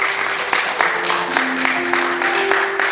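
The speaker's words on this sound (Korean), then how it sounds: "박수로 우리 함께 축하해 주시기" A church congregation applauds as roses are presented to newly appointed officers, giving steady, moderately close clapping for a few seconds with a faint voice underneath.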